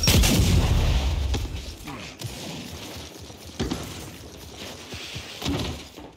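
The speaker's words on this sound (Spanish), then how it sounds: "¡Granada de fragmentación!" Frag grenade blast in the video game Gears 5, a heavy booming explosion with shattering debris, followed by scattered gunfire and impacts at moderate loudness.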